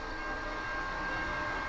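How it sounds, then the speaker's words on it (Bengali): A train draws near with a constant broadband rumble and a faint high whine, heard close and steady with no voices over it. "ট্রেন আসছে"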